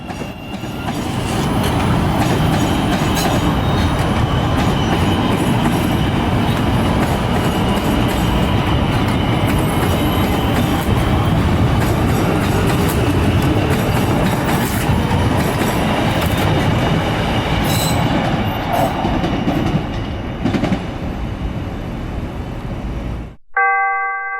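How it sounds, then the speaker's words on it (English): An 8-car CTA Pink Line train rumbles steadily out of the yard at 54th and Cermak in Chicago, loud and continuous with wheel clatter, ending with a door chime. "this 8-car Leviathan rolled out of the yard at 54th and Cermak"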